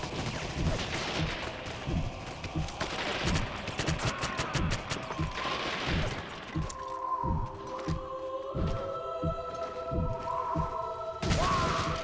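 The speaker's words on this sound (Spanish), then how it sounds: "Hostia, macho, le están disparando a ese." Gunfire in Medal of Honor: European Assault on PS2, rapid bursts of rifle and machine-gun shots at close range during the first half, then scattered single shots over a quieter tonal game background.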